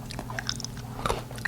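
Homemade peanut brittle, a hard crunchy candy, is bitten and chewed close to the mic, with a run of small sharp crunches and clicks at an uneven rhythm, fairly quiet.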